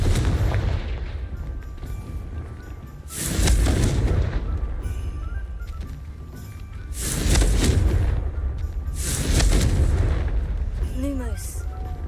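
Confringo fire spell blasts in the video game Hogwarts Legacy, three loud roaring bursts several seconds apart, each swelling and fading over a rumbling game background, with a voice heard briefly.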